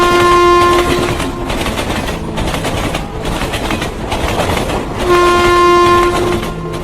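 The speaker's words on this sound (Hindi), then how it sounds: "चूहापुर जाने वाली ट्रेन पनौतीपुर स्टेशन पे आ रही है।" Train arriving at a railway station: a loud horn blast opens, the rumble and clickety-clack of passing wagons carry on close by, and a second long horn sounds near the end.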